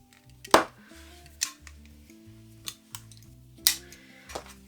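Scissors cutting yarn while making a crochet elephant, a few sharp, close snips and clicks spaced irregularly over a quiet background.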